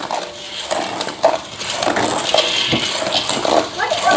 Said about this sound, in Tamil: அந்த வெடித்து சத்தம் கேட்கும் பாருங்கோ